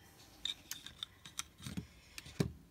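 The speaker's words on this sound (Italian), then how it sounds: "taglio il filo in eccesso" Small scissors snip excess thread on a handmade beaded bracelet, a few faint, sharp clicks spaced irregularly and close up with no talking.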